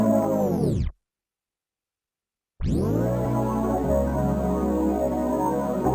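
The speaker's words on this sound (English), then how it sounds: "I automated a tape stop and start." A sustained synth pad loop from a pop track is slowed to a dead stop by a tape-stop effect, falls silent for almost two seconds, then spins back up to full speed with a rising sweep and carries on at steady level.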